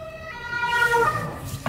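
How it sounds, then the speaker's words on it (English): An ambulance siren heard from inside a Mercedes GLE 350de plug-in hybrid on the road, its wailing tone rising and falling at moderate distance over low road rumble, with no speech. "so we make a little bit of space here for the ambulance."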